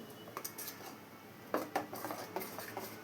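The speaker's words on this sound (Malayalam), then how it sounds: "ഇനി ഇതെല്ലാം കൂടെ ഒന്ന് മിക്സ് ചെയ്തെടുക്കാം" A spoon stirring pachakkaya parippu curry with ground coconut in a pot, a few quiet metallic clinks and scrapes against the pot.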